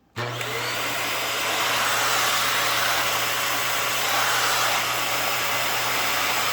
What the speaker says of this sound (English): I'll try to vacuum this whole section right here. We'll see if this turbo brush works.